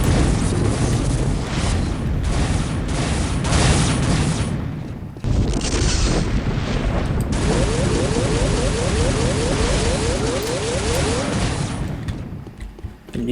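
A weapon shot in Unreal Tournament 99 erupts into a big explosion, a loud, dense roaring blast sustained for many seconds, briefly cutting out and resuming, with crackling bursts layered through it.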